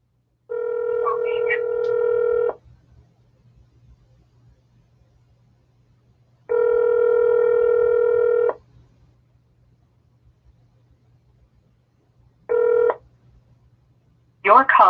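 Telephone tones sound during a call being placed, with three separate steady electronic tone bursts spaced apart over near silence, the first two about two seconds each and the last short, then a brief new sound at the end.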